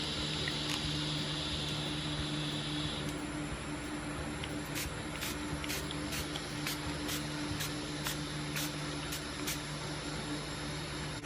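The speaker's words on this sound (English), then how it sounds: "I'm just gonna spray" Repeated short hissing bursts of a spray bottle spraying ink onto an art journal page, about a dozen quick pumps in a row over a steady background hum.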